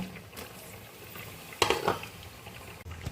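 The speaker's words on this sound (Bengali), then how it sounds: "দেখো জলটা পুরো ফুটে উঠেছে এই অবস্থায় এই কচুগুলোকে ঢেলে দেবো" Pieces of taro tip into a pot of fully boiling water with one short, sharp splash midway, set against faint bubbling and light clatter from the pot.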